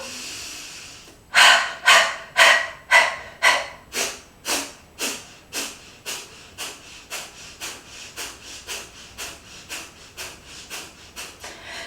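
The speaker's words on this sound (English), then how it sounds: "So really sharp exhales, using your belly muscles to really sharp exhale." A run of about twenty sharp, forceful exhales through the nostrils in a breathing exercise, evenly paced puffs that start strong and gradually soften and quicken, close and without speech.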